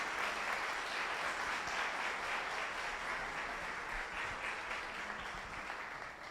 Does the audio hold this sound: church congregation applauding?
yes